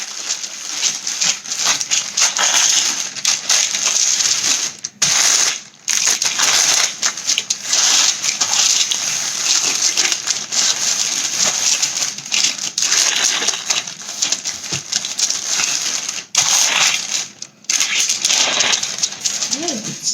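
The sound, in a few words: granola bar mixture pressed flat under parchment paper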